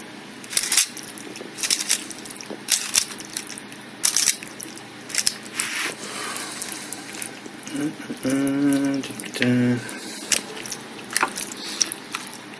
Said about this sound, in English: But I'm going to give this a stir